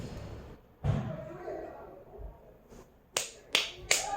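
Sharp, bright claps in a rhythm game: a dull thump, then three crisp claps in quick succession near the end, close and loud over a faint background hiss with no talking.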